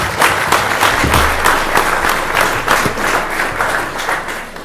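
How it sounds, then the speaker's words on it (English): Polite audience applause at a candidate forum, moderately loud with individual claps audible in a loose rhythm, fading slightly toward the end. "Lovely applause, that's very polite."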